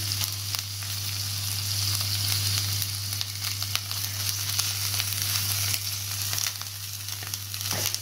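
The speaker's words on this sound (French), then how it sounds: "du coup là on fait revenir les oignons et tout" Onions sizzle and crackle in a frying pan, a constant close hiss with scattered pops and a low electrical hum underneath. Nobody speaks.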